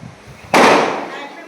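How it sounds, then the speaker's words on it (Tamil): Firecrackers set off outdoors: a single sharp, loud blast bursts in suddenly after a quiet stretch and rings out with a long, noisy decay, as though fairly close by. "எங்கள் அண்ணன் வெளியே வெடி எடுத்து பார்த்துட்ருக்கான்."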